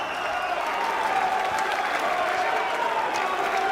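A crowd at a 2012 Mosconi Cup pool match applauds steadily, a dense, even wash of clapping that holds at moderate loudness throughout.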